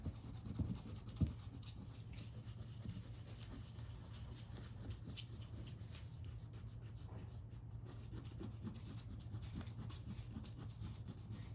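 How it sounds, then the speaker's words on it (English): A rubber eraser rubs pencil lines off a drawing on paper in a steady, soft, scratchy back-and-forth, quiet and close, with no talking. "next we're gonna go ahead and erase all of our pencil lines on our drawing"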